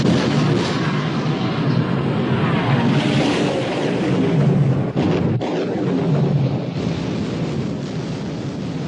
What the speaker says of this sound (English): Open fire, Captain.